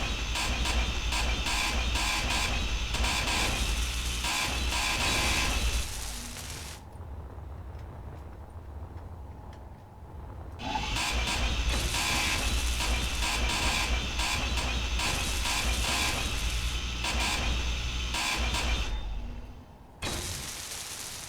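A grinder in the Space Engineers video game grinding back steel plates: a loud, steady, harsh mechanical whine and rasp running continuously, cutting out briefly twice before resuming, close and alone without talk.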